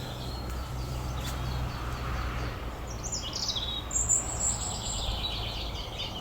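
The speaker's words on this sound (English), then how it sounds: "so I'll leave you amidst the birdsong" Faint, distant birds chirp over a steady low rumble of outdoor ambience, with a brief brighter call cluster near the end.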